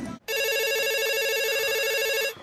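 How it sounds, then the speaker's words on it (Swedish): A telephone rings with a sustained, bright electronic tone, loud and close, lasting about two seconds before cutting off, with no voices. "Telefonen ringer."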